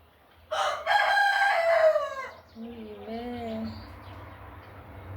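A rooster crows loudly and close by in one long, drawn-out call, followed by softer clucking and fowl calls against a quiet outdoor background.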